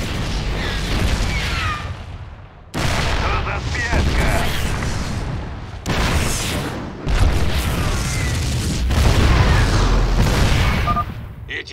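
Siege tanks in a video game pounding a target in siege mode, a series of heavy booming blasts in bursts with rumbling between them, loud and dense, under a voice and game chatter.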